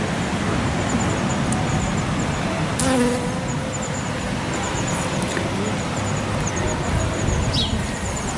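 A bee buzzes among flowers as it gathers pollen, a steady insect drone held close and continuous over outdoor ambience, with a few brief chirps above it.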